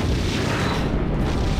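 A Romulan vessel explodes in the Star Trek Legacy video game, one continuous loud rumbling boom that fills the whole moment.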